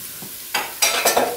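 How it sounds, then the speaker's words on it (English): Sliced mushrooms hitting a hot pan and being stirred, loud close sizzling that swells in several bursts as a utensil scrapes through them, with no talking. "Yeah, in go the mushrooms."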